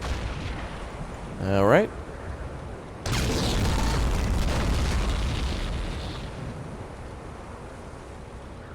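Artillery fire in the WWII strategy game Men of War: Assault Squad, set during the 1941 Operation Barbarossa: a sudden heavy blast followed by a long rumbling roll that slowly fades, with a short spoken word beforehand.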